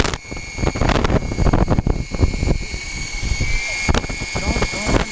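A toy helicopter flies at full power with a steady, loud buzzing whir of its rotors and motor close by, punctuated by rattly thumps as people talk over it.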